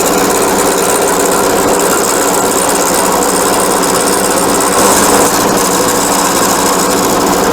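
A wood lathe spins steadily while a tool cuts a wooden finial, giving a loud, continuous whirring hum with a dense, raspy scraping layered on top and no voices.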